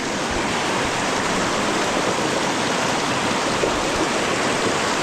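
Rushing floodwater in a swollen stream on rural farmland, a loud, dense, unbroken roar of churning water that holds steady close by throughout.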